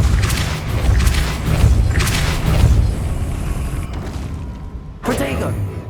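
A Depulso spell is cast in the Hogwarts Legacy video game, producing heavy booming thumps and forceful blasts that roll on for several seconds, with a sharper burst near the end.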